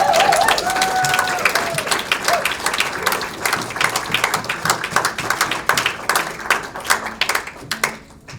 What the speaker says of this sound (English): Please give a round of applause, a big stomp for ArchAngel Angie.